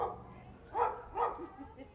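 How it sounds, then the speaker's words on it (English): A dog barks twice in quick succession, moderately close, during an outdoor gardening lesson about planting bulbs, with a few softer yips trailing after. "Lovely dog, he's okay."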